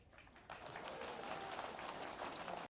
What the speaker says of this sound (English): Plenty of applause there.